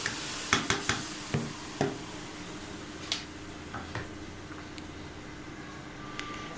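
Marinated mutton is tipped into a pressure cooker, giving a few sharp clatters and spoon scrapes over a steady soft sizzle that continues alone.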